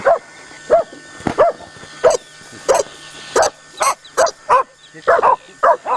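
Dogs barking near a starting engine, a quick series of loud, sharp barks coming in uneven bursts about every half second, close by and with people talking in between.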